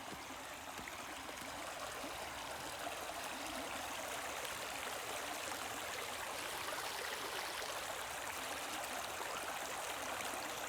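Shallow stream water flows steadily with a constant, even rushing and trickling wash, close by and unbroken, with no voices.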